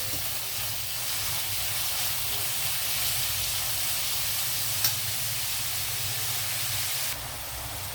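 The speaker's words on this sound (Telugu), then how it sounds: "ఇదిగోండి, ఉల్లిపాయలు వేగుతున్నాయి కదా" Onions fry in a pan with a steady, even, broadband hiss that holds at the same level throughout, with one faint tick partway and a slight drop in intensity near the end.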